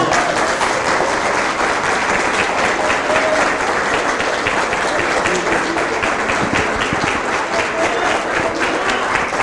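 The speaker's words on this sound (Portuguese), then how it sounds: "Pode aplaudir a Jesus, porque Ele é bom." Congregation applauding during a church service, a loud continuous wash of clapping from a large crowd with faint voices mixed in.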